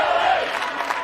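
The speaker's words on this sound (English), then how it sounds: "This crowd bringing all the energy" Crowd at the 2024 NCAA women's water polo championship between UCLA and Cal roars loudly and steadily at halftime with the score tied, a dense wash of cheering and shouting.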